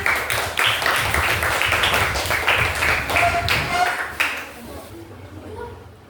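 An audience of classmates claps for a presenting group in a classroom, a short burst of loose clapping with voices over it that fades out near the end.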